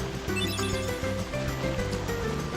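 Steady rushing water from a waterfall in the Kingdom Hearts video game, a continuous broadband wash heard alongside tonal game music, with no talking.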